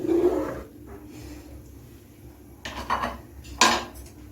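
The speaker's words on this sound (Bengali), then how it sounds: "আমি নেড়ে চেড়ে আর একটু দুধটা জাল করে নেব" A spoon scrapes and knocks against a pot of boiling milk in a few separate clinks and stirring scrapes, close and moderately loud, with quiet stretches between.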